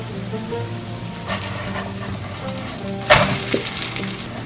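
Steady frying sizzle from cabbage pancake batter in a hot pan over medium heat, with a louder crackling burst near the end, close and continuous.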